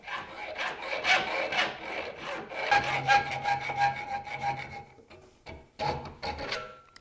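A hacksaw cuts a 3/4 by 1/8 inch bar of oil hardening tool steel with close, rhythmic rasping strokes that pause briefly near the end and then resume.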